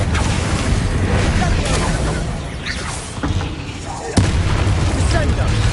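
The Confringo explosive spell in Hogwarts Legacy bursts with deep, rumbling booms amid dense battle noise. A sharp blast lands near the end.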